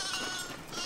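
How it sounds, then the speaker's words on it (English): A baby sheep in the farming video game Foundation lets out a brief, soft bleat, a single short call over quiet background. "Yay, baby sheep."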